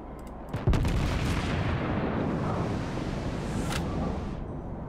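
Battleship main guns fire in World of Warships, from an American New Mexico battleship: a few sharp booming salvos early on, then a long rumbling roll of heavy gunfire that continues loudly to the end.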